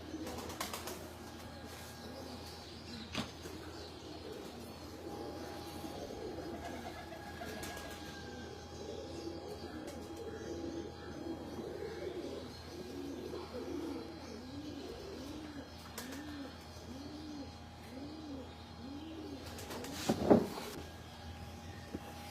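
Rooftop pigeons coo softly in a steady run of low, rounded calls, fairly faint against a quiet background, with a brief clatter near the end.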